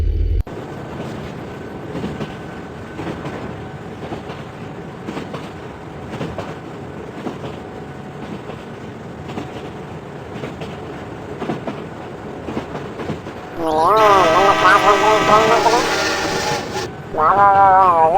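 A train rumbles past steadily with rhythmic rail clatter, then a loud horn-like blast rises near the end over the continuing rumble.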